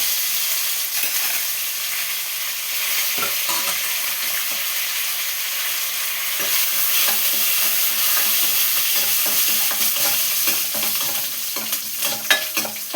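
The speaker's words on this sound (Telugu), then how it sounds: "కొంచెం కరివేపాకు వేసుకున్నాను." A small handful of curry leaves is dropped into hot oil to temper a lentil rasam (pappucharu), giving a steady, close crackling sizzle with sharp pops that builds and continues for the whole stretch.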